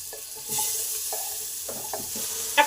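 Eggplant pieces coated in salt, turmeric and chilli fry lightly in a pan, giving a steady soft sizzle broken by several scraping stirs and a sharper clink near the end, with no talking.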